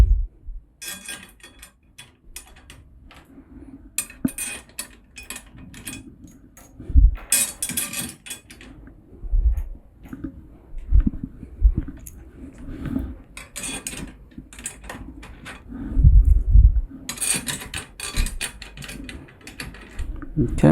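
Metal hoop work on a Yamaha Stage Custom Birch drum, swapping a 1.5 hoop for a 2.3 triple flange hoop: scattered clicks, taps and metallic clatters come in bursts with pauses, close by, with brief talk in between.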